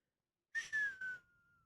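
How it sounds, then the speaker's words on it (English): Someone whistles with the mouth closed, three short clear tones sliding slightly downward and then trailing into a faint held note, close and quiet, with no talking. "How are you whistling with your mouth closed right now?"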